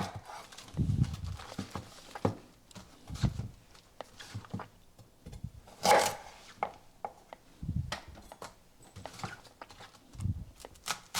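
Knife chopping a trimmed head of cabbage into six wedges on a cutting board, a series of irregular dull thuds and crunches up close, with brief pauses between cuts.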